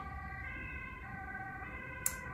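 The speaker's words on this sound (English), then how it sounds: "Ambulance." An ambulance siren wails steadily in the distance, its rising and falling tones holding for a couple of seconds behind a quiet indoor room, with one brief sharp click near the end.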